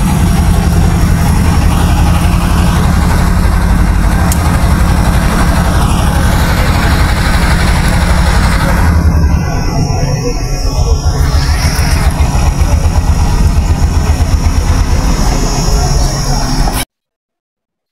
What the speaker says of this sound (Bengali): আমাদের ট্রলারটা কিন্তু চলে আসছে।